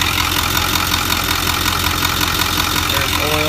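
A 6.4 diesel engine with combustion and compression trouble idles with blow-by, a loud steady low rumble throughout, with oil coming from the exhaust and heads.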